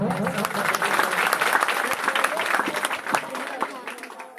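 A crowd at a church festival of the cross applauds in a steady, fairly distant patter of clapping, with a voice speaking over it as the applause gradually fades.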